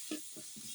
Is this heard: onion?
yes